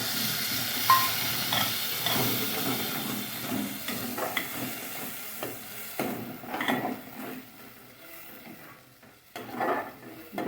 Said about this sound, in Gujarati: હવે આપણે ડુંગળી પણ એકદમ સરસ રીતના તેલમાં સંતળાઈ ગઈ છે